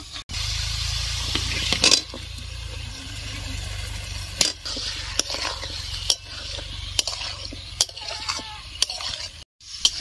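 Chicken and potatoes are stirred and fried in a wok with spices, a continuous sizzle broken by sharp scrapes and clanks of the spatula against the pan at irregular intervals.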